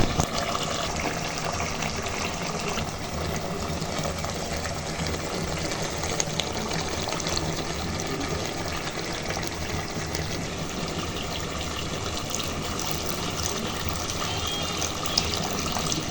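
Water is poured into a simmering meat curry to make the broth, giving a soft continuous gushing, splashing wash that stays faint and even throughout, with no voices.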